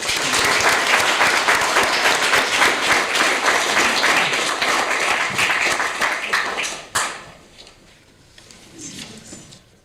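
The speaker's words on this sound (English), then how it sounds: "Let's give him another round of applause." A city council meeting audience gives a sustained round of applause for a public works employee, steady dense clapping at close range that stops abruptly near the end, leaving a few scattered claps and room noise.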